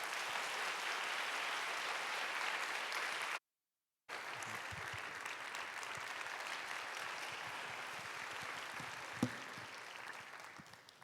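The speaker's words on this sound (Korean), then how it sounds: "나오실 때 큰 박수로 환영해 주시길 바랍니다." An audience at a church worship service gives steady, sustained applause to welcome a pastor to the stage, briefly cut off, then continuing with a single louder clap standing out.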